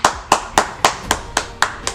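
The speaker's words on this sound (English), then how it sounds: "give yourself a round of applause" Eight crisp hand claps land in an even, steady rhythm about a quarter second apart, close and clear, with no talking between them.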